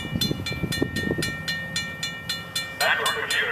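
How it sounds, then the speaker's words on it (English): A Metra commuter train hauled by an EMD F40PH locomotive pulls into Lake Forest station with regular rhythmic clicks over the tracks and a rising hiss of brakes near the end, heard up close. "The next outbound Metra train from Chicago is now arriving in your station."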